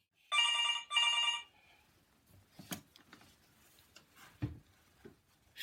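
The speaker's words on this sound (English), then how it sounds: "First thing this morning, I'm sitting here and the phone rings." An old-style telephone bell rings twice in quick bursts, each a loud, close metallic trill, followed by quiet handling noises and faint shuffling.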